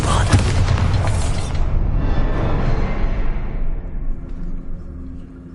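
Loud booming explosion of the Confringo fire spell in Hogwarts Legacy, a sharp blast at the start followed by a long rolling rumble that slowly fades over several seconds.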